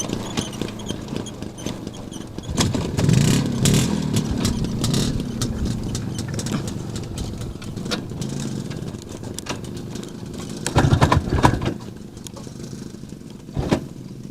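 Izh Planeta 5 motorcycle kick-started in fourth gear, repeated thuds and mechanical clatter with brief bursts of engine sputter that fail to catch, close by outdoors.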